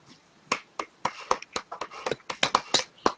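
A small group claps hands in a studio show setting, giving about a dozen crisp, close claps in an uneven, loose rhythm over a few seconds, with no speech over them.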